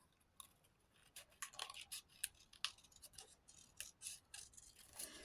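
Scissors snip around a paper grunge label in a quiet craft setting, a run of close, crisp cutting strokes with soft rustling, some louder snips standing out, with no talking.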